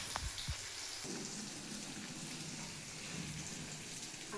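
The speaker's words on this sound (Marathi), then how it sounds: "हे आता तळू." Tomatoes frying in a pan in a home kitchen: a steady, fine crackling sizzle, soft and continuous, with a couple of faint clicks near the start.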